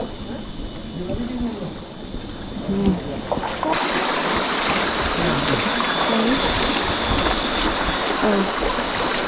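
Steady roar of rushing water at the Curug Nangka waterfall at the foot of Mount Salak near Bogor, a broad constant wash growing louder partway through, with people talking faintly over it.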